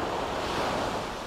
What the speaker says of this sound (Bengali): সমুদ্রের বড় বড় ঢেউ তীরে আছড়ে পড়তেছে